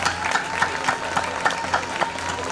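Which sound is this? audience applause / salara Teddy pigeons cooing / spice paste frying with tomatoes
audience applause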